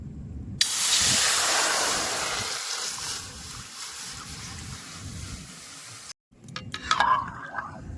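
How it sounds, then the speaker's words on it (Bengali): Soaked chickpeas and water hit a hot wok with a loud, rushing sizzle that bursts in suddenly and fades slowly over several seconds, then cuts off before a short clatter of stirring. "এখানে জলটা শুদ্ধ কড়াইয়ের মধ্যে দিয়ে দেবো"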